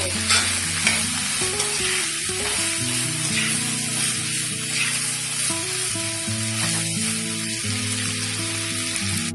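Gobi manchurian, battered cauliflower tossed in a pan with chilli sauce, sizzles and frys steadily while being stirred, a continuous close crackle with stirring scrapes, layered under steady background music.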